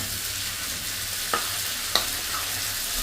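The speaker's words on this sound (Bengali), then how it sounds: "এখন আমি একটু ভালো করে নাড়াচাড়া করছি যেন সব মশলাগুলো আলুর সঙ্গে ভালোভাবে মিশে যায়" A paste of ground ginger, coriander and cumin is stirred with potatoes in a pan, producing a steady low sizzle with two distinct spoon taps against the pan.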